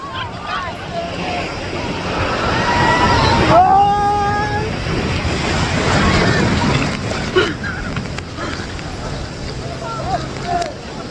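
Sea waves roll and wash ashore at Cox's Bazar beach, a broad surging roar that swells and recedes, mixed with strong wind buffeting the microphone and a brief voice partway through.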